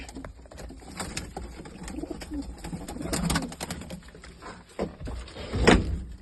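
Soft cooing of pigeons close by, mixed with rustling and fluttering, plus a louder flurry near the end.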